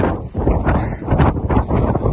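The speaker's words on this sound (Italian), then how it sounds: "C'è un vento incredibile" Strong wind on the rocky coast at Dunmore East, Ireland, buffets the microphone in loud, close, roaring gusts that rise and fall in quick succession.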